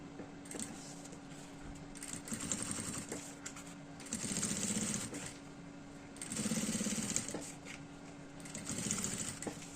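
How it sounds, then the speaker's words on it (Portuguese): A sewing machine stitches fabric for a multipurpose travel case, running in several bursts of rapid, whirring mechanical chatter separated by quieter pauses, close and fairly loud. "E vai costurando."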